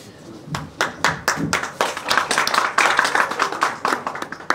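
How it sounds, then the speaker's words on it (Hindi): Students at a women's college event in Baramulla clap steadily, a dense run of close hand claps that builds and holds for several seconds with little talk. "पीछे स्टूडेंट्स तालियां बजाते रहेंगे"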